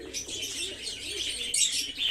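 Pigeons in a breeding loft coo and chirp close by in a short, uneven run of soft calls with a brief flutter near the end.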